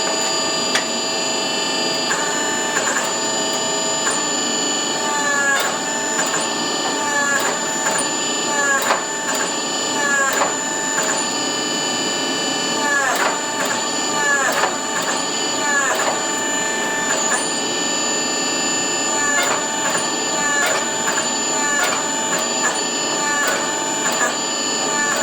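A press works a canister Damascus steel billet with a steady, loud mechanical drone, broken by regular sharp clicks and thumps, close and continuous throughout.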